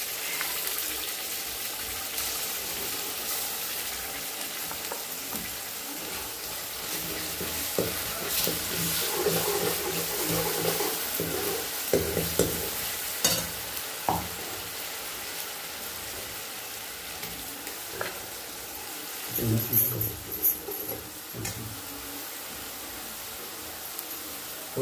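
Coconut and onion paste frying in a pan over a wood-fired stove, a steady close sizzle with scraping stir strokes and occasional louder clatters, no voices.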